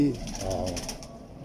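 A breeder pigeon of a fifty-year-old line gives a short, soft coo, close by, with a bit of background noise and a brief voice at the start.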